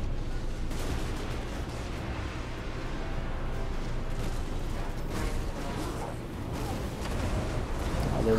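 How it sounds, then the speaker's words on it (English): Explosions and artillery-like blasts from a Total War: Warhammer battle, a dense continuous rumble with scattered bursts throughout, loud and steady. "All those beautiful explosions."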